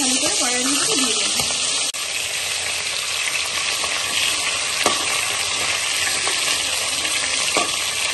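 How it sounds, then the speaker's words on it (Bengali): Prawns frying in hot mustard oil in a wok, a dense, continuous sizzle that holds steady throughout, with a few sharp clicks of pieces being added or moved. "একটা একটা করে চিংড়ি মাছগুলো ভালো করে কড়াইয়ের মধ্যে দিয়ে দেবো।"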